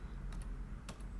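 Code is typed on a computer keyboard while writing a Python lambda. A few quick, close key clicks fall in two small pairs over a low, steady room hum.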